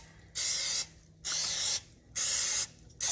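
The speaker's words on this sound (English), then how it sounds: "I'm gonna spray these pretty good." Cooking spray hisses onto muffin tins in four short, loud bursts of about half a second each, evenly spaced, with the last one cut off. Quiet pauses fall between them.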